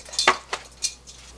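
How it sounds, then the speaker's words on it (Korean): Wooden cutting boards stacked over pickled cucumbers in a kitchen to press out water; three or four quick hollow knocks and clacks, close and brief. "도마를 또 한 개 올립니다."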